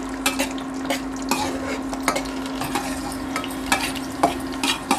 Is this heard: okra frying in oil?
yes